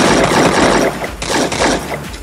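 Gunfire in the Free Fire mobile battle game, several loud close shots and bursts in quick succession with dense, crackling impacts across the short span.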